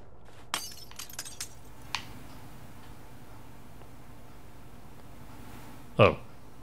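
A glass bottle shatters in the video game We Happy Few, one sharp, loud break near the end, preceded by a few faint ticks and clinks over a low game background.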